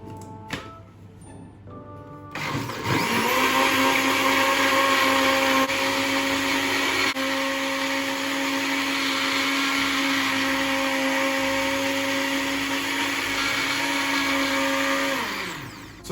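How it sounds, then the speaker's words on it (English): A kitchen blender whirs loudly as it blends parsley and mint into a detox drink, starting after about two seconds of quiet and running steadily at high speed before winding down near the end. "So all we have to do is just to blend the mixture."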